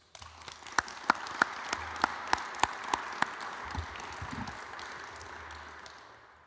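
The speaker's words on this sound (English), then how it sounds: "Please join us in a round of applause for all of our distinguished guests." Applause from an audience at a military change of command ceremony, opening with a few sharp individual claps and then building into broad, sustained clapping from a large crowd that gradually fades toward the end.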